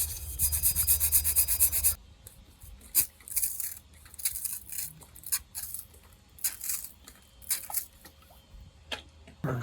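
A bronze boat propeller is rubbed with vinegar, starting with a brisk burst of back-and-forth scrubbing. Sporadic softer rubs, taps and scrapes follow, close up and without speech.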